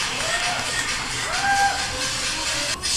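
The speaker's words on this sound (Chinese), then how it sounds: "我们用最热烈的掌声欢迎第一首歌" Studio audience applause on a Taiwanese TV variety show, welcoming the first song with a steady, dense wash of clapping and scattered voices that holds for three seconds and dips briefly near the end.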